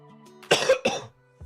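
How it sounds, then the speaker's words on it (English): A person coughs twice in quick succession, close and fairly loud, with a brief throat-clearing sound trailing after a pause in an otherwise quiet room. "excuse me, I need to cough a little bit here."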